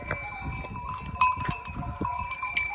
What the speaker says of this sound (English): Goats and sheep, it's all good.